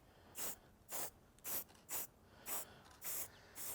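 Seven short hissing bursts from an aerosol spray paint can coating a tabletop planter, evenly spaced and close, with quiet pauses between each spray.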